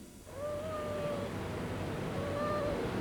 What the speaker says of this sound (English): The faint sounds of a kitten crying.